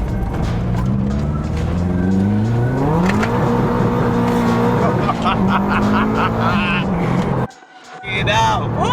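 A Subaru 22B replica swings through a quick U-turn, its engine droning under steady in-car chatter, then revving up in a rising sweep before a sudden cut and a sharp burst of acceleration near the end.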